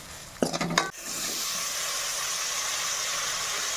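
A spoon stirs dal with ridge gourd and tomato in a pot, a short scraping rattle for about half a second, followed by a steady soft sizzling hiss of cooking.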